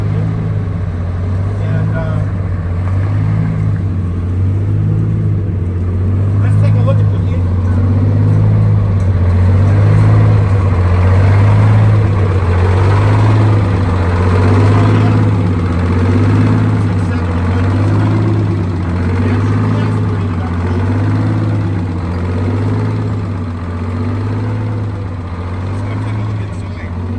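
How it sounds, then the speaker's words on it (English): A bus engine fitted with heavier injectors idles with a raspy, throbbing rumble, steady and close throughout, with someone talking over it. "put the heavier injectors on here, so that's why he has that really raspy sound that I'll show you"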